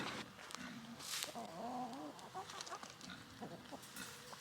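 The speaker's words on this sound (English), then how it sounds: "Now let's get our chicken that likes to escape Sunny back with all the other chickens." Chickens cluck and call in a busy, noisy outdoor setting, with short bursts of bird vocalizations coming close together over steady background noise.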